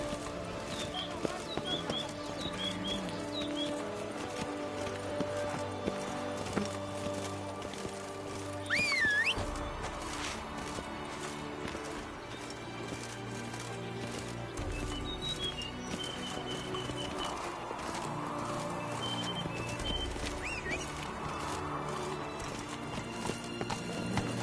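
Galloping horse hooves pound in a steady clip-clop rhythm in a video game, with a brief whinny partway through, over faint ambient birdsong and game background sound.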